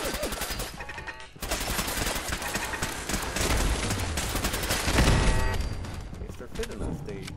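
Gunfire in the video game Fallout 4, dense rapid bursts of automatic shots and heavy booms layered over game music, loud and continuous with a brief lull near the start.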